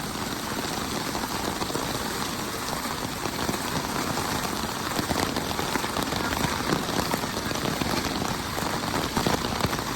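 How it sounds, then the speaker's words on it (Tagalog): Heavy rain in San Mateo, Rizal, pours down steadily, a dense, loud hiss of drops hitting surfaces throughout, with a faint low engine hum underneath. "Lumalakas na naman yung ulan."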